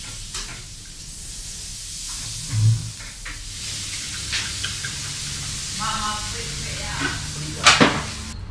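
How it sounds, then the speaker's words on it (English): Lobster sizzles in butter in a frying pan, a steady hiss with clinks and kitchen clatter, and a brief voice partway through. "And with a lot of butter, into the frying pan it went."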